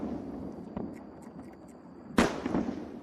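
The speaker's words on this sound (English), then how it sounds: "video taken by space enthusiasts about 2 miles away captured a massive explosion" A SpaceX Starship rocket explodes on its test stand at night, heard from about two miles away as one sharp, loud blast after a stretch of quiet hiss, trailing off in a rumbling decay.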